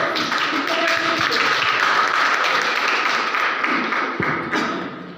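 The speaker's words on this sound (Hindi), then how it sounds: "जोरदार तालियां एक नए सेक्टर के लिए।" An audience claps steadily and loudly in a hall, welcoming a new cryptocurrency sector presented by a company group, with the applause holding throughout before easing slightly at the end.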